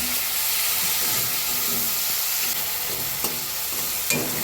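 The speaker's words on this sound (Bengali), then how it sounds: "এখানে মশলাটা কষিয়ে নিয়েছি, এবার ভেজে রাখা আলুটা দিয়ে দিব।" Fried potatoes go into a pan of cooked-down spice masala, bringing a loud, steady sizzle and hiss with a few scraping stirs and no talk.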